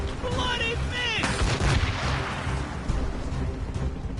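Cannon fire from a sailing warship's guns in Assassin's Creed Rogue, loud booms and rolling blasts amid battle noise, with voices shouting orders over the din.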